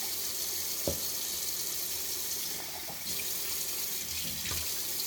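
Tap water running steadily into a pot of rice for cooking, a continuous close hiss and splash with a few brief knocks, no speech.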